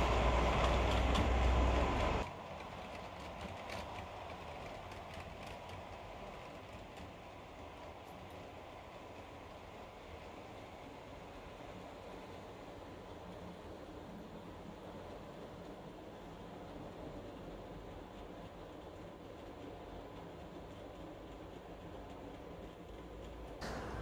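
A Heljan O-gauge Class 33 model diesel locomotive runs in on a test track with a steady, quiet rolling rumble and faint rail clatter, preceded by a brief louder burst at the very start.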